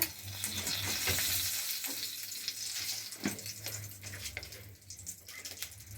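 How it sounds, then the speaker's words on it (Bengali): Bay leaves and five-spice seeds frying in oil in a wok, with a soft steady sizzle and occasional stirring scrapes, quiet and close, no voices. "আমার 5 ফোড়ন তেজপাতা ভালোভাবে ভাজা হয়ে গেছে।"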